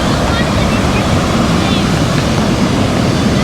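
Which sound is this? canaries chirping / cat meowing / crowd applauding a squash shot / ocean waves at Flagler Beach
ocean waves at Flagler Beach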